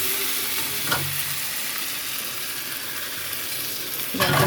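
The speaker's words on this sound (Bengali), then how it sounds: "এবারে আমি একটু জল ঢেলে দেবো।" Vegetable chorchori fries in a pan with a constant bright sizzle, as water added to the hot pan brings louder crackling flare-ups near the start and again at the end.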